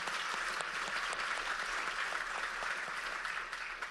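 A welcome session audience at a maternal health panel gives dense, sustained applause with many hands clapping at once, staying loud throughout and easing slightly at the end.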